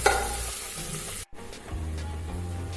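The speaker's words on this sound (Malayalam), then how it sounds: "സവാള നന്നായി ചൂടായി കഴിഞ്ഞാൽ ഫ്ലെയിം മീഡിയം ഫ്ലെയിമിലേക്ക് മാറ്റി ഇത് നന്നായി ഒന്ന് ഗോൾഡൻ കളർ ആവുന്നതുവരെ വേവിച്ചെടുക്കാം" Sliced onions sizzle steadily in a pan over a medium flame while a Kerala-style beef roast is cooked, with a brief gap midway and the frying resuming close and continuous, no voices.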